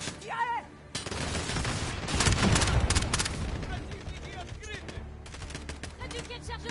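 A running firefight in the video game Call of Duty Modern Warfare keeps a steady, dense crackle of automatic gunfire going, with louder bursts midway and voices speaking briefly over it.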